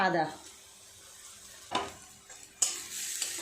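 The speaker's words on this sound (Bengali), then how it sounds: "আদা রসুন আর পেঁয়াজ খুব ভালো করে একটু সময় নিয়ে এইভাবে নেড়ে নেড়ে ভাজা করে নেব" Onion, ginger and garlic fry in a pan, giving a faint, low sizzle broken by a few sharp stirring scrapes.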